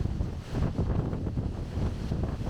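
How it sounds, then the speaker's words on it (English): Strong wind sweeps along an old 1910s–1920s highway in the Columbia River Gorge, a loud, surging roar that buffets the microphone in uneven gusts. "It's windy as a bastard here"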